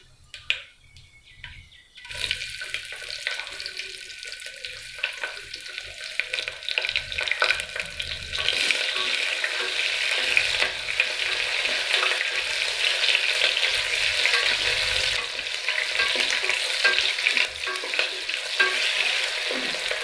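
Onions hit hot oil after a brief quiet moment, then fry with a loud, steady sizzle and crackle that builds and continues close by, stirred now and then, with no talking.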